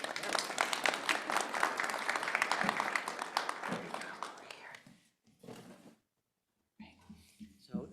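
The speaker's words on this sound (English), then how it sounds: "Or you can clap." Clapping fills a school board meeting room, a crowd's steady applause that fades out halfway through, followed by quiet gaps and soft voices.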